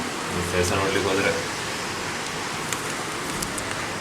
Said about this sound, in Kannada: ಚೆನ್ನಾಗಿ ಗಾಳಿ ಬರ್ತದೆ.